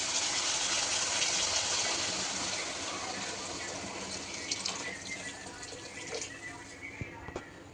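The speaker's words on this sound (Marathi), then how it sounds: "नंतर आपण ऍड करणार आहोत पाणी।" Water pours steadily into a pan while veg Maggi is being made, a close rushing splash that slowly eases off, with a few light drips and clinks toward the end.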